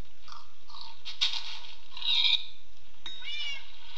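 Cat meowing in Minecraft, a few short game meows followed by a louder, drawn-out meow and a final warbling cry, clear and close with no talk over them.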